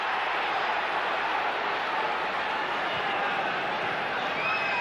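A dense football crowd roars and cheers continuously at a Manchester United match against Fenerbahçe, a steady, far-off wash of noise with no distinct voices standing out.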